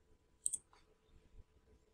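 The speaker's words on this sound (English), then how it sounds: "let's suppose click OK" A computer mouse clicks on an OK button while using AutoCAD Electrical software, a quick pair of sharp, close clicks in an otherwise quiet room.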